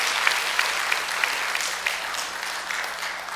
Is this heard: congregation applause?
yes